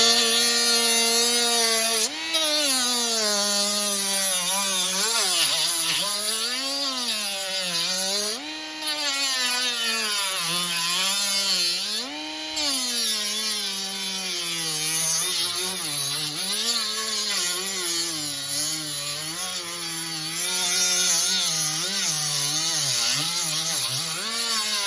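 Power tool grinding and smoothing a gouged-out piece of wood for a homemade bird feeder, a loud continuous whining drone with pitch that rises and falls as the load changes, running steadily throughout.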